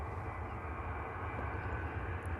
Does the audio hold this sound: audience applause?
no